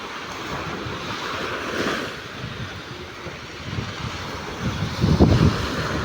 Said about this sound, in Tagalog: Sobrang lakas po ng hangin dito guys.